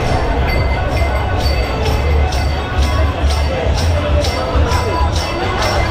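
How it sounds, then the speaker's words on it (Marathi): A dense crowd at the Gudi Padwa procession in Girgaon, Mumbai, makes a loud continuous roar of voices and bustle with a steady rhythmic clatter running through it. "लोकांची गर्दी वाढत चालली होती, पण ही गर्दी खूप आवडते आपल्याला,"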